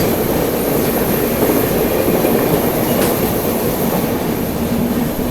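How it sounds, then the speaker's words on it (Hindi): Teesta Torsa Express passenger train running by on the line between Alipurduar and Sealdah, a loud continuous rumble of wheels and carriages with rail clatter and a faint squeal, steady throughout and free of talk. "तीस्ता तोरसा एक्सप्रेस थी ये दोस्तों आप लोगों की, जो कि अलीपुर द्वार और शालदा के बीच में चलती है।"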